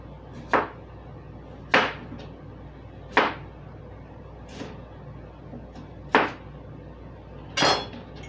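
A small knife cutting red onions on a board, giving six sharp, separate chops at an unhurried, fairly even pace, close and clear over a quiet room.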